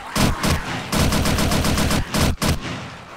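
An MG4 machine gun in the game 7 Days to Die fires long, loud, rapid automatic bursts up close, broken by a couple of short pauses before a final burst trails off.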